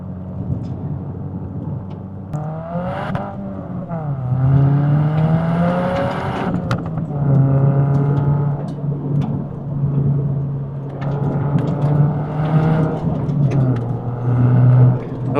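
A Subaru WRX driven hard on a gravel road, its engine droning and revving up and down in steady waves with gravel crunch beneath, loud and close from inside the car throughout.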